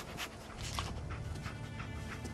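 A dog in a video game pants in quick, soft, rhythmic breaths over a faint low background, fairly quiet and close, with no speech.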